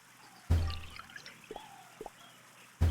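Water poured from a container onto a dying potted plant in a Nancy Drew game, a short soft pour followed by a few trickling drips, quiet and close with no talking.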